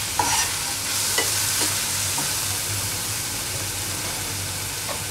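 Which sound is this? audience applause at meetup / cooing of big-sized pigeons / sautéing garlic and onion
sautéing garlic and onion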